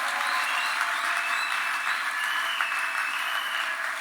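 Congregation at a church wedding applauding the Lord, a dense, sustained wash of clapping from many hands that holds steady and loud throughout with no pauses.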